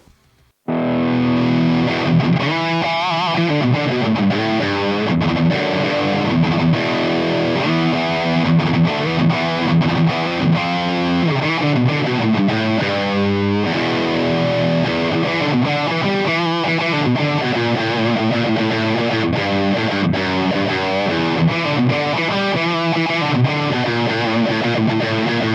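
A 2021 ESP LTD electric guitar with a mahogany body and neck, ebony fingerboard and locking tuners plays through heavy distortion. Loud, dense riffs and chords ring continuously for about 25 seconds, with no talking.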